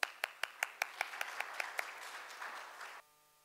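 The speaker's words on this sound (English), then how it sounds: "let's call upon Mr." An audience gives a round of applause as a speaker is called up: a few distinct, evenly spaced claps build into fuller clapping that fades out near the end, moderately quiet.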